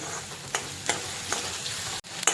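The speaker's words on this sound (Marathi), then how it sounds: "कांदा छान असा सॉफ्ट होईपर्यंत त्याला परतून घ्यायचा" Onion sautéed in a pan, a soft steady sizzle with a few sharp scraping stirs of a utensil against the pan at irregular intervals, quiet and close.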